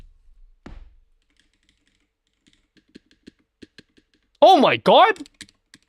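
Sparse keystrokes on a new all-metal mechanical keyboard, a handful of crisp, separate clicks spread out in near silence, close and fairly quiet, with a short excited voice exclaiming in between.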